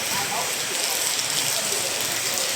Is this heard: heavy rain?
yes